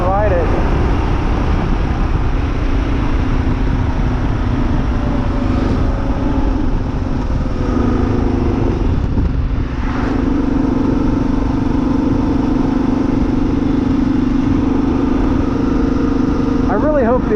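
A 2023 Kawasaki KLR 650 motorcycle cruises on the road at near-freeway pace, its engine droning steadily under loud, continuous wind rush. A voice talks over much of the ride.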